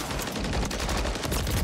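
Rapid gunfire in a sniping-focused shooter video game, a dense, continuous burst of loud shots rattling close and evenly throughout, with no talking.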